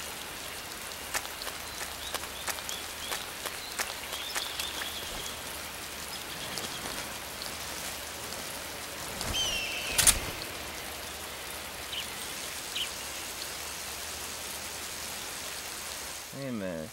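Steady rainfall in the stealth jungle game Metal Gear Solid 3: Snake Eater, a continuous hiss of drops on foliage with a few sharper taps and a brief louder burst midway.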